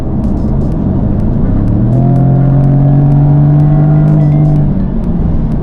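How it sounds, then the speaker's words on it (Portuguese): A Jaguar F-Type 75 rear-wheel-drive sports car accelerates hard, its engine note rising into a loud, droning roar with a strong low rumble, swelling and then easing off near the end, with no talk over it. "Será que esse carro acelera bem?"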